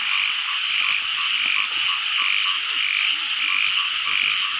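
A loud, unbroken chorus of croaking frogs and toads fills the air, pulsing steadily with no voices.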